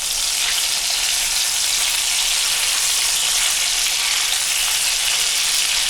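Chicken frying in a pan, a steady close sizzle with a continuous bright crackle that holds evenly throughout without talk.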